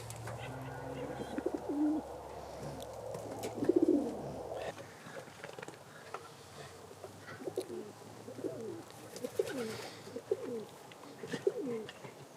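Pigeons coo inside a performance loft, soft repeated cooing calls rising and falling over a low hum, with a few brief busier bursts early on and steady cooing through the rest.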